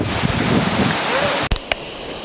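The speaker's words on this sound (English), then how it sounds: "Alright, that's the waterfall." Steady broadband rush of a waterfall in Zion, loud and continuous, with a brief knock and a couple of short clicks near the end.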